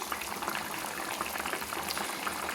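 A sour fish curry with potato, cauliflower and fried brinjal bubbles in an uncovered pot, a dense, close burble of popping bubbles that continues steadily throughout.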